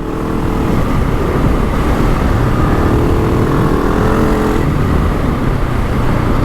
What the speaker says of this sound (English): Now quick shift up.